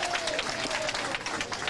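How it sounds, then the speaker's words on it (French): An audience at a political gathering in Boké, Guinea, applauding in a dense, continuous burst of clapping, with faint voices in the crowd. "Applaudissez pour vous,"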